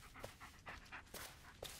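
A dog in the video game Blair Witch pants in quick rhythmic breaths, close but quiet, steady throughout with no talking.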